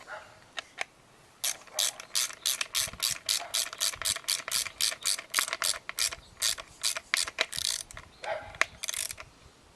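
A ratchet wrench tightens a part during a Kohler lawnmower pull cord repair, giving rapid, close, loud clicking bursts in steady repeated strokes with brief pauses between them.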